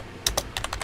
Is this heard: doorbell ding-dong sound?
no